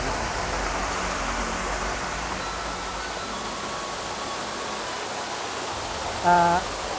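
A waterfall at a Thai cave temple gives a steady, dense rushing wash throughout, with a brief tonal blip near the end.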